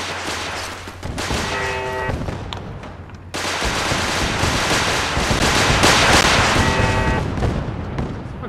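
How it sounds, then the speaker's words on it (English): Heavy gunfire in Fallout 4 as gunners attack during a defense: loud, sustained automatic volleys and crackling shots, with a short drop before the barrage resumes even more intensely. "Yeah, there's more shooting."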